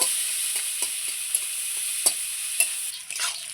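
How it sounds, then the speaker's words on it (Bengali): Onion and two medium garlic cloves fry in a pan until browned, giving a steady close sizzle with a run of sharp spatula taps and scrapes as they are stirred, with no talking. "পেঁয়াজটা আমি একটু লাল লাল করে ভেজে নেব।"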